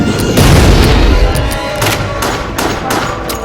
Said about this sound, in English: I got the rocket launcher. I'm shooting.